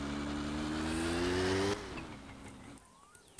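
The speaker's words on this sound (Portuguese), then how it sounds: "Vamos ligar a moto." Small motorcycle engine in the game My Summer Car idling with a steady buzzing drone, then dropping in pitch and cutting out, leaving faint clicks and quiet.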